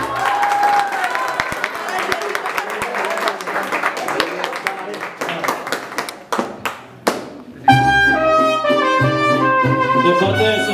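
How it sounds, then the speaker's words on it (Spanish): A crowd claps and applauds at a birthday party with a mariachi band, with sharp, uneven claps over voices before the mariachi music starts up loudly near the end. "Fuerte ese aplauso."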